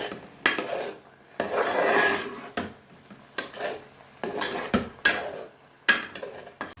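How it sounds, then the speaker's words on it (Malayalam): Roasted semolina being mixed in a pan with a spatula, repeated scraping and rubbing strokes with sharp knocks against the pan, close and steady, no voices. "നമ്മൾ വറുത്ത് വെച്ച റവ ഇതിലേക്ക് ചേർത്ത് കൊടുക്കാം. ഇത് നല്ലപോലെ ഒന്ന് മിക്സ് ചെയ്തെടുക്കാം."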